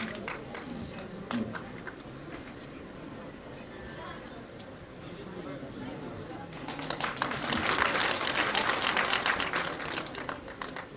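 An audience applauds during a memento presentation at a progressive farmers' exhibition and workshop; the clapping builds and swells into a dense burst in the later seconds, with a voice speaking over it.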